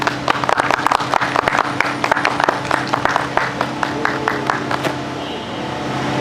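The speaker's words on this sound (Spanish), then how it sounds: "un aplauso por favor" A small audience claps at a morning talk event, with distinct individual claps in a lively irregular patter that thins and stops about a second before the end over a low steady hum.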